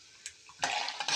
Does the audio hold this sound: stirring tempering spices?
yes